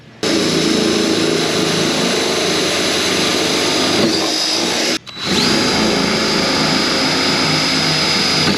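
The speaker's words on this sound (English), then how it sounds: "When you guys drill fiberglass, drill it on high speed and low pressure." A power drill runs at high speed, boring pilot holes into a fiberglass fender on a 1000HP Chevy Nova streetcar: a loud, steady whine for several seconds, then a brief stop near the five-second mark before it spins back up.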